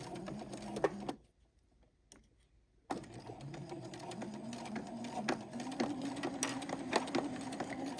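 A sewing machine set to about eight stitches per inch runs fast bursts of stitching through layered fabric, stopping briefly for a near-silent pause, then resuming with steady buzzing whir and light clicks, close and fairly quiet.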